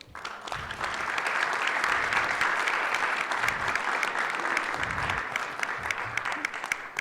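An audience at a weekly assembly applauds a professor, a steady full round of clapping from a moderate-sized crowd, somewhat distant, holding evenly for several seconds.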